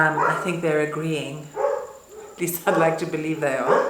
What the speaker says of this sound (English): excuse the dogs barking in the background